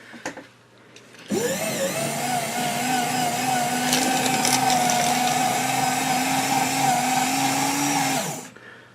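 An oiled paper shredder switches on and runs with a steady, loud motor whine and grinding hum for several seconds, then spins down and stops.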